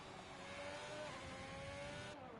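A Ferrari Formula 1 car on a flying lap in the F1 2020 video game at Italy, its engine a steady high-pitched whine that climbs slightly in pitch, heard alone.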